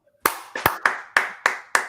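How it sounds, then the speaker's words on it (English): A handful of sharp, close hand claps in quick succession on a podcast set, roughly six distinct slaps with short decays, with no talking over them. "Let's get 2 claps for Royer real quick"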